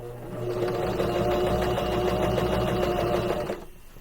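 A sewing machine stitches a mini gift bag in one steady, fast mechanical run of needle beats, close and loud, stopping abruptly near the end.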